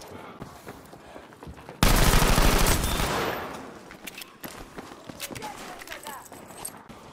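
Gunfire in the Battlefield V video game, a loud dense burst of rapid automatic shots that fades over about a second, set among quieter scattered shots and movement, with a player talking over parts of it.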